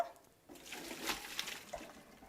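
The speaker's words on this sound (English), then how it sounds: "My pasta is now ready, so we're going to drain it in the colander." Cooked pasta water pouring from a pot into a colander in a home kitchen, a soft continuous splashing and gurgling stream that swells in the middle and holds steady, moderately quiet and close.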